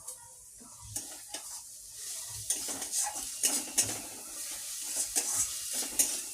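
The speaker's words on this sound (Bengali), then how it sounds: "চিংড়ি মাছ দিয়ে দিলাম। এবার এটাকে নাড়বো ভালো করে, একটু কষাবো" Prawns stirred in a hot pan, a metal spoon scraping and clinking against the pan in irregular strokes over a steady sizzle of frying, close and moderately loud with no talking.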